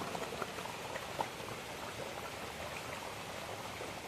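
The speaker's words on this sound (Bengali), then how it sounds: "ভেজে রাখা মাছ আর দিয়ে দেবো একটু জিরে গুঁড়ো দিয়ে আবার ঢাকা দেবো দিয়ে ভালোভাবে ফুটিয়ে নেবো" A covered pot of fish curry with yam simmers on the stove, a faint, continuous bubbling and burbling with occasional small pops, steady throughout and with no speech.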